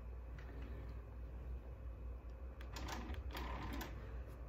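A sewing machine stitches through layered chenille quilt fabric, giving a steady, fairly quiet mechanical whir with faint rapid ticking and brief louder clatters near the end, with no talking.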